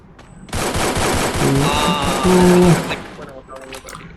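Rapid automatic gunfire bursts from the video game Free Fire, loud and sustained for about two seconds, with a player's voice talking over the shots.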